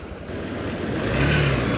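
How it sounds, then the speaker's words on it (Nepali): A motorbike on a narrow mountain trail near Melamchi, Sindhupalchok, rides off: a steady engine drone with broad road rumble that holds and swells slightly, with no talk. "अब जाँदैछ हाम्रो सचिवज्यूको बाइक।"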